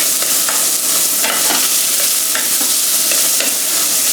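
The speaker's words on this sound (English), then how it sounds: "Next, you want to add your shallots, your ginger and garlic." Shallots, ginger and garlic sautéing in a hot pan for a striped bass curry, a loud, dense, continuous sizzle with repeated stirring scrapes, close up, no talking.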